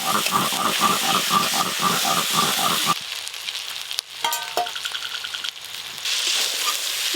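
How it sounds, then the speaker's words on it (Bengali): Marinated chicken added to frying spiced masala at a picnic cooking session, a loud rhythmic sizzle and scraping stir that breaks off into quieter hissing and clatter. "এবার ম্যারিনেশন করা মাংসটা দিয়ে দেবো"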